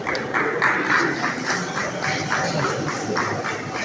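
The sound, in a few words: applause for an estate surveyor at an awards night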